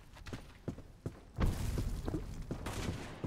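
Gunshots from the video game Black Squad pop in a scattered, irregular series, a few sharp cracks early on followed by a heavier burst of firing, fairly faint and heard from some distance.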